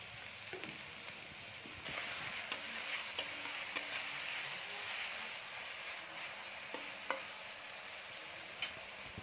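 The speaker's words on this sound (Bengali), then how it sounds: "আমরা আলুটাকে একটু ভাজা ভাজা করে নিয়েছি" Potatoes fry in a pan with a little salt, giving a steady, bright sizzle, with scattered light scraping clicks from stirring over the continuous crackle and no voices.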